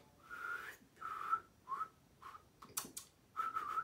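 A series of short whistled notes, some rising or sliding, played alone with brief pauses between them.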